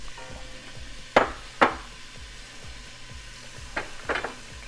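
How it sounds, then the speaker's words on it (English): Vegetables hitting heated oil in a pan give a steady, close frying sizzle, with a few sharper bursts of crackle and spatter as more pieces drop in. No one speaks. "Hear that sizzle."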